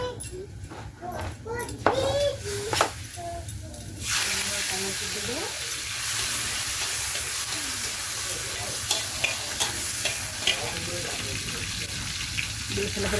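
Tomatoes hit hot oil for an okra and potato curry and set off a sudden, loud, steady sizzle partway through, with crackles and stirring over it. A voice talks near the start.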